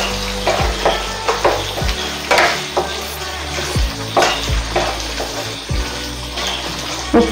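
Sausage frankie gravy with sauce sizzles in a pan while a spoon stirs it, giving repeated scraping strokes every second or so over a continuous bubbling fry, close and fairly loud.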